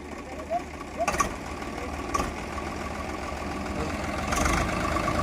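A tractor engine idles low and steadily throughout, with a few faint knocks and clatters over the rumble.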